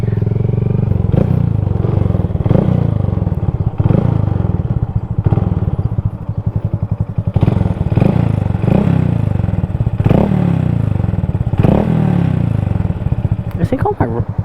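A motorcycle engine screams up to redline and holds there during a wheelie, loud and close, with rhythmic surges and the bike's plastic panels rattling throughout; a rider's voice is faintly present.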